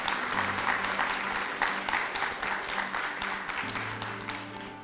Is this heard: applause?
yes